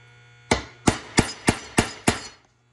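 A hammer strikes a center punch six times in an even rhythm to mark a drill spot on trailer metalwork. Each blow is a sharp, close metallic knock with a short ring, and no one speaks.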